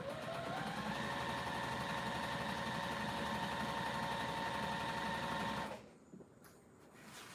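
A sewing machine stitching with its needle down, running steadily with a loud, even whir and hum for several seconds, then stopping abruptly into near silence with faint handling noise.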